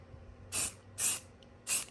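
Spray paint is applied to body panels of a 2000 Acura Integra GSR salvage project in a body-work setting: three short, close hissing bursts of roughly a quarter second each, separated by brief pauses, with no talking.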